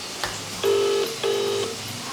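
A phone call's ringback tone sounds close and clear as two long, even beeps with a short gap between them, preceded by a faint click.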